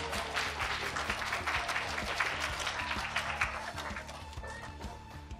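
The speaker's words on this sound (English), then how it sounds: "Give them an applause," An audience claps steadily for a certificate winner during a school English Week event, sustained applause that holds for several seconds and eases slightly at the end, with a low tonal hum beneath.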